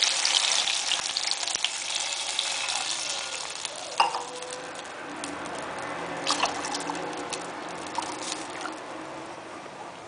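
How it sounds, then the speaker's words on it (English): Milk pours into a vessel of hot ghee with ashwagandha paste, a continuous close splashing stream with sizzling crackle that eases into a steady bubbling hiss, no voices. "And now we are adding 800 ml of milk."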